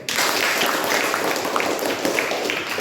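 Classroom applause for a student group after their presentation, brisk mid-distance clapping from many hands forming a continuous patter for a few seconds.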